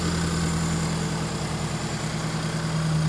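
A Toyota 4K engine idles in an owner-type jeep, a steady, close, low rumbling hum with a slight even pulse and no change in revs, heard without talk.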